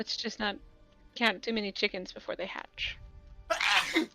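A single sharp sneeze bursts out near the end, right after a stretch of close conversational talk.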